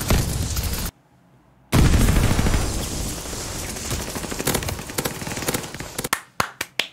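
Rapid gunfire from the Nikita Chiquita weapon in the video game Call of Duty Vanguard: loud sustained bursts, a sudden second of silence, then more dense automatic fire ending in a few separate sharp shots.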